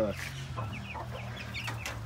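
A mother hen with her one-month-old chicks clucks softly and repeatedly, short low calls mixed with higher chirps, fairly quiet and close.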